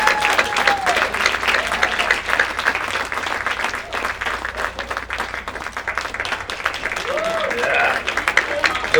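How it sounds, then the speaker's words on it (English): Steady, fairly close applause from an awards ceremony audience, continuous clapping with a few whoops that rises slightly toward the end, while voices chatter faintly underneath. "Keep that applause going."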